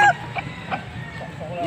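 Brief honking, clucking calls from chickens for sale at a poultry market in Angeles, Pampanga, a few short squawks close by over faint background chatter.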